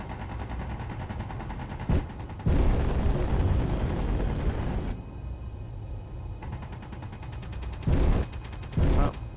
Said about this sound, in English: There's a gun inside it somewhere, shooting at me from the inside somewhere.